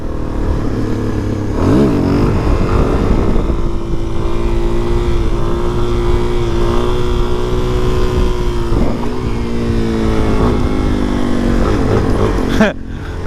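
A Suzuki DRZ400SM motorcycle fitted with Shinko 705 tires climbs through its gears on a trail. The loud engine drone rises in pitch, then drops at each upshift, with wind rush throughout.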